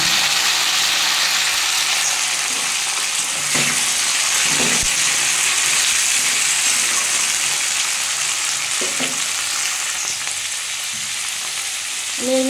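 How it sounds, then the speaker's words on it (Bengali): Fish head frying in a pan with spinach and beans, a loud steady sizzle and hiss throughout with a few soft stirring knocks. "সব দিয়ে এটা ভালো করে ভেজে নেব।"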